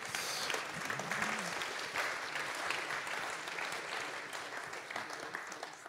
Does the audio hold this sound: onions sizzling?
no